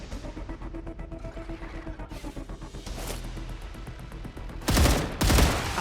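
Rapid bursts of automatic gunfire in the video game StarRupture, steady repeated shots that swell into louder, denser volleys near the end, with no talking.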